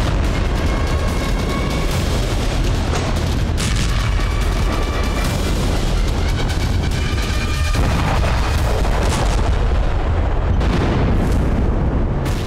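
Heavy bombardment in Lebanon: a dense, continuous roar of explosions with deep booming rumble and sharp bursts, loud and sustained throughout with no voices.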